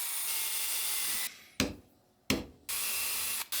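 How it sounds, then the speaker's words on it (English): A power drill bores holes through wood while a drawing board easel is built in a workshop. The drill whirs in steady bursts, stops with short knocks in between, then starts again. It is close and loud, with no talking. "I take my time to mark out my hole positions before drilling them out."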